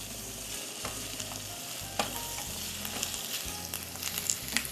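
Vegetables sautéing in a pan for a warm vegetable salad, a soft steady sizzle and frying crackle with occasional stirring scrapes and clicks of a utensil, close and fairly quiet, with no talking.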